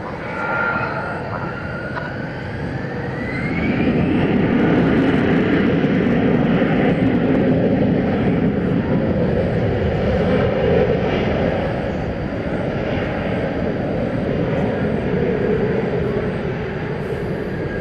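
A Turkish Airlines heavy jet at DFW Airport at night, lining up on runway 18 right, gives a loud rising engine roar that swells after a few seconds and holds steady, with a falling whine early and faint radio chatter underneath.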